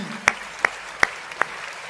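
Four sharp, separate hand claps spaced evenly apart, close and distinct against a quiet background, at a Hindi comedy poetry gathering.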